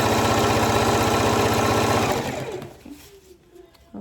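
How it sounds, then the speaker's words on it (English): A sewing machine stitches ribbons onto a layered fiesta tutu, running in a steady fast rhythmic whir for about two seconds, then slowing and stopping with a few faint clicks. "and I'll sew some more."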